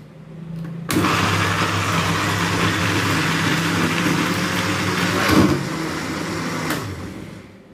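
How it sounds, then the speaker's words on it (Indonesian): An electric blender grinds large red chillies and curly red chillies, starting abruptly with a loud steady whirring drone that surges briefly, then eases and stops. "cabai merah besar dan cabai merah keritingnya kita blender ya bun, sampai halus ya bun"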